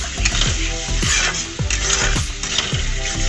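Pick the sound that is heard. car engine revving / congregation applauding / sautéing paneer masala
sautéing paneer masala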